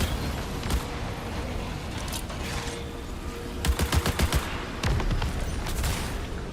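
Grenade explosions and gunfire in the sci-fi shooter video game Marathon: a dense, continuous game mix with a quick run of several sharp bursts in the middle and more blasts near the end, all fairly loud and up close.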